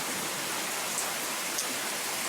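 Steady rain pouring during a dying storm, a dense, even hiss of drops on surfaces with no distinct individual impacts and no voices.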